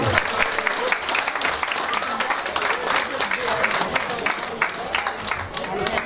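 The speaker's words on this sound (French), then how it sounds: "on vous donne un applaudissement pour la boucherie Centre-Ville" An audience at a sugar shack event claps steadily for several seconds, a dense, even wash of applause with scattered voices mixed in.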